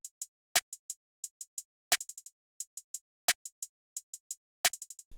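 Programmed hi-hat and snare pattern built in FL Studio for a smooth beat: crisp, evenly spaced hat ticks with quick rolls, punctuated by sharp snare hits roughly every 1.4 seconds over silence.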